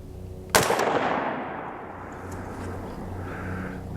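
A single loud, close report from a budget SPR rifle fired at a melon target outdoors cracks sharply, then rolls into a long, fading echo.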